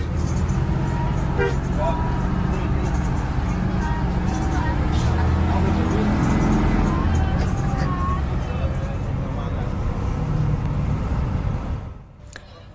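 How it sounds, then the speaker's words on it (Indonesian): A Jaya Utama economy-class air-conditioned bus drives between Semarang and Tuban, its engine and road noise a loud continuous drone with faint rattles inside the cabin, cutting off abruptly near the end. "Bis Jaya Utama ini kelasnya ekonomi AC atau lebih dikenal dengan sebutan ATP atau AC tarif biasa"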